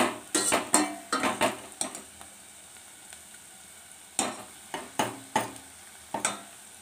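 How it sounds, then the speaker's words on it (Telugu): Chopped onion pieces frying in oil in a pan, with a steady soft sizzle broken by a series of sharp metallic scrapes and clinks of a spoon stirring against the pan. "ఆనియన్ ముక్కలు గూడా వేసి బ్రౌన్ కలర్ వచ్చేంత వరకు ఫ్రై చేసుకోవాలి"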